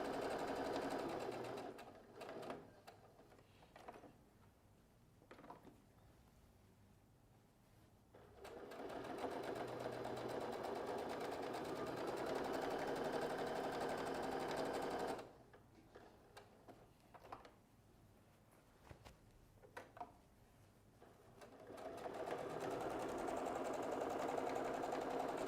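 A sewing machine stitches a backpack bag, starting with a short burst of backstitching and then running steady, even stitches. It runs in long, close, fairly loud stretches separated by quiet pauses with faint handling noises.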